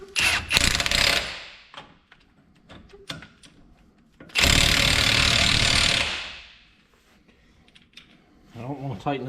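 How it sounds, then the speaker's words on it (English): An impact wrench rattles loudly in two bursts while tightening the wheel bearing nut on a 2012 Chevy Silverado 1500, first briefly, then a sustained run of about two seconds, with quieter shop clatter between them. "I don't want to tighten this all the way with the impact."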